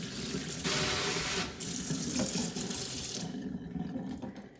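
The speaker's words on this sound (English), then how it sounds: "gently rinse them" Tap water runs steadily over seeds being rinsed, a broad hiss of flow from the faucet that changes as the stream is moved, then tapers toward the end.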